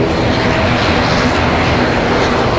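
A Boeing 787 Dreamliner at Raleigh-Durham International Airport gives off a loud, continuous broadband jet roar during wet weather, steady and close throughout.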